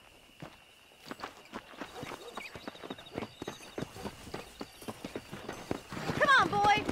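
Horse hoofbeats in the Red Dead Redemption video game, a regular clip-clop that settles into a steady riding rhythm and grows busier near the end, with a voice briefly heard over it.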